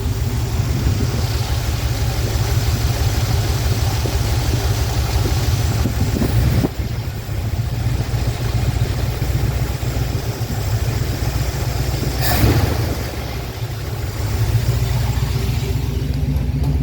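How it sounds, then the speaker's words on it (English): A work truck engine runs steadily at a raised idle with a constant low rumble, heard up close and alone, with slight fluctuations and a couple of brief knocks. "So I'm gonna raise up the idle."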